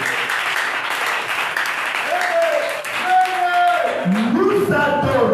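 A church congregation applauds loudly and steadily while a voice talks over the clapping and a musical tone rises underneath.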